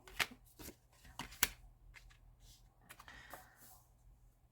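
Tarot cards are handled and tucked away, giving soft, close shuffling and tapping sounds with a few sharper flicks, quiet and irregular.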